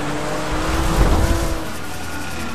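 A car in GTA 5 roars through a police chase, its engine droning loudly and steadily while tires squeal and skid under it, with a dense rumble throughout.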